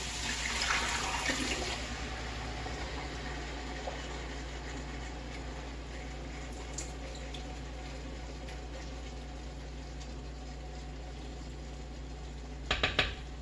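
Liquid dumped into a pot of meat for chipotle chili, a brief rushing pour at the start that settles into a steady low bubbling hiss, with a few faint clinks and a short knock near the end.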